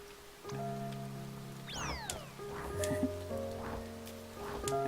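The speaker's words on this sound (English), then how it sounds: "Suddenly it's raining to the trees are everywhere" Soft, steady rain patters through a gentle pixel-art game, A Bird Story, as a schoolchild steps from a classroom into a tree-filled playground. The rain sits under tonal game music, chimes and brief sliding chirps.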